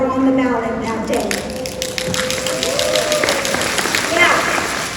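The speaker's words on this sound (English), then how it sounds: "give yourself a round of applause" Audience applause at a Texas State Teachers Association president's speech, a broad, steady clatter of many hands that lasts throughout and sits under a speaking voice.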